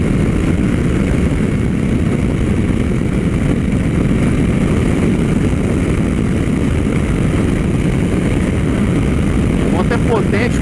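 A Suzuki V-Strom 800 motorcycle engine drones steadily while riding on the road, loud and continuous with heavy wind rush throughout.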